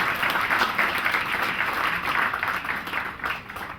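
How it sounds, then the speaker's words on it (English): A crowd at the Huawei Mate 8 phone launch in Harare gives sustained, thick applause that stays steady and then eases slightly toward the end. "A round of applause for the 3 brand ambassadors who are here"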